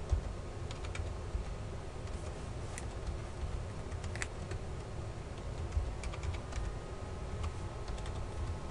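Someone types a passphrase on a computer keyboard. Soft, irregular key taps sound close by over a low background hiss, with no talking.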